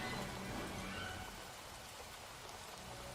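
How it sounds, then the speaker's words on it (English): Heavy rain pours steadily as a dense, even hiss of drops striking surfaces, slightly louder at the start and then constant, with no voices present. "The rain is pouring around you."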